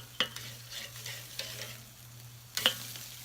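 Meat searing on a Weber grill makes a quiet, steady sizzle over a low hum, with two sharper clatters from handling, near and fairly faint.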